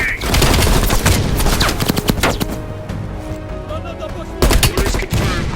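Rapid machine gun bursts and scattered gunshots in Call of Duty Black Ops Cold War, loud and close, in dense volleys with short pauses between them.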